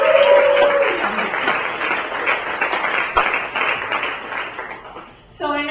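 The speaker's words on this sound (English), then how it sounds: "So let's give them a round of applause." An audience applauds in a hall after a film screening at a university event, with a continuous wash of clapping that fades near the end as a voice speaks over it.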